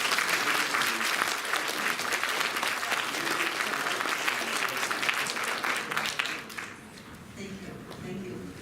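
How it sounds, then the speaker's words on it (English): Audience at an award ceremony breaks into loud, steady applause that fills most of the stretch, then thins to scattered clapping near the end. "let's give her a round of applause for her."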